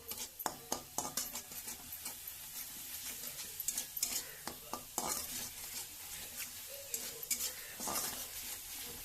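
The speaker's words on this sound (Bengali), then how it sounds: "তারপর আমি এই মশলাটা ভালো করে কষিয়ে নেব" A spice paste with water and chopped coriander is sautéed in a pan for ghugni, with a quiet sizzle under rapid, irregular scraping and clinking of a spoon against metal.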